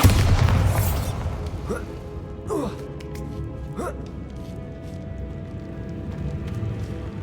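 The Bombarda blasting spell explodes in the game Hogwarts Legacy: a loud, deep boom bursts at the start and rolls into a fading rumble with scattered debris-like knocks, and a voice is briefly heard.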